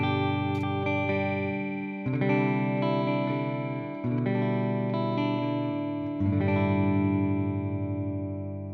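Clean electric guitar tone through a simulated Fender '65 Twin Reverb amp with a TC Electronic Flashback delay, sustained chords restruck about every two seconds, each ringing out with trailing repeats and no voices.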